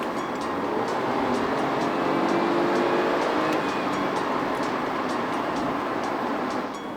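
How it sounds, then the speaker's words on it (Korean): A 2020 Mini Clubman with a dual-clutch transmission accelerates hard, heard from inside as a dense, steady roar of engine and road noise that stays loud and unbroken for the whole stretch. "가속 반응이 얼마나 빨라졌는지 잠시 극가속으로 한번 해볼 거예요"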